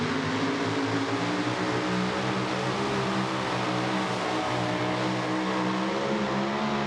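A limited pro stock tractor engine roars continuously during a tractor pull, a loud, sustained drone that holds steady throughout with no voices over it.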